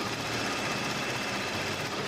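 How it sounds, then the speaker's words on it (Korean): A Hyundai Genesis gasoline engine idles steadily with the hood open, a smooth, quiet, continuous hum with faint mechanical ticking, recorded close and alone without talk. "영상으로 엔진 소음 한번 담아보도록 하겠습니다"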